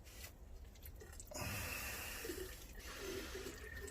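Water is poured over freshly sown petunia seeds in a pot, making a steady, soft splashing trickle that swells after a brief start and continues close by without talk.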